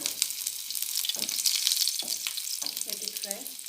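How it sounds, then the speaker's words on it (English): Garlic pieces frying in hot oil while cooking Dondakaya fry, a steady bright crackling sizzle throughout, close and fairly loud, with a few stirring scrapes and faint voice-like sounds underneath. "Let the oil get heat. Now add garlic pieces."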